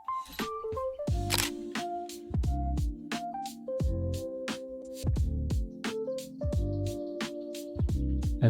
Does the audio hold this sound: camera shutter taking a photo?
yes